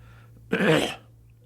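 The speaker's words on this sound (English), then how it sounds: "you clearing your throat" A man clears his throat once during an interview: a short, rough burst that is close and loud, standing alone against a quiet room hum.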